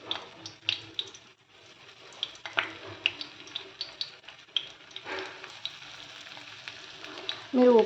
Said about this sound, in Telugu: ఇప్పుడు బాండి పెట్టుకొని నూనె వేడి చేసుకొని ఫ్రై చేసుకుందాం.